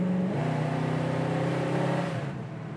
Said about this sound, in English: That's about 3/4 throttle.